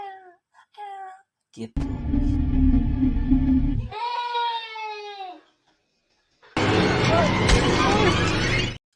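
A human voice imitates a crying baby for a dubbed horror film scene, giving drawn-out wavering wails. Brief speech comes first, a loud low rumble runs under part of it, and a harsh burst of noise follows.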